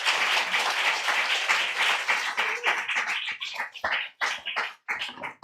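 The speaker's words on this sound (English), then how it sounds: "you're going to start thunderously clapping" Audience applause breaks out at a live reading event, loud and dense at first, then thinning into scattered claps with brief gaps toward the end.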